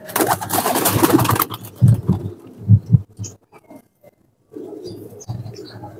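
Slate-coloured pigeons, a paired male and female, coo close by in low throaty pulses, with a burst of noisy flapping or rustling at the start and short pauses between calls.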